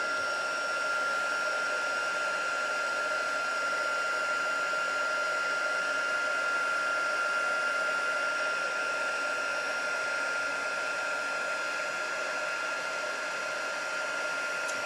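A heat gun blows a steady, even whirring hiss close by for the whole stretch, used to melt embossing powder, with no talk over it.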